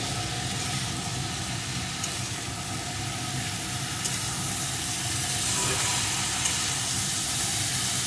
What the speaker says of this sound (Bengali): ডালটাও কিছুক্ষণ চাল কুমড়োর সাথে ভেজে নেব।